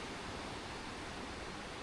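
River water rushes in a steady broadband wash on the Wenatchee River in Washington State. It is a constant, fairly faint flow with no break and no voices.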